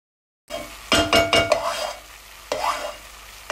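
Ground beef browning in a pan for chili is broken up with a utensil, giving a few sharp scraping clinks in quick succession over a steady close sizzle, then another scrape after a pause.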